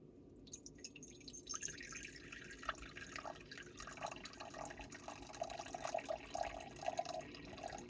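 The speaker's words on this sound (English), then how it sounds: "I'm going to pour this in here until I get to 1 cup of water." Water trickles and splashes steadily into a measuring bowl on a kitchen scale at close range, a quiet continuous pour with small drips and bubbling.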